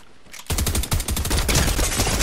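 Rapid gunfire bursts from a Call of Duty match, starting abruptly after a short quiet lead-in and continuing as loud, dense, overlapping automatic fire to the end.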